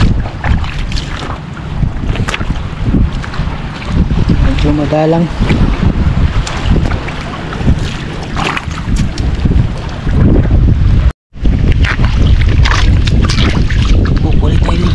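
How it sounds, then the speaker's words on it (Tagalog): Strong wind roars and buffets the microphone continuously, with water and boat noise underneath on a shell-strewn shore with big waves, and a person talking briefly. "malakas yung hangin"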